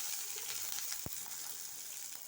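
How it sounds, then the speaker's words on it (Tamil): Cumin seeds frying in hot oil give a steady, even sizzle throughout, with one brief soft knock partway through, close and moderately quiet. "அதோடு சேர்த்து ஜீரகத்தை பொரிச்சுக்கலாம்"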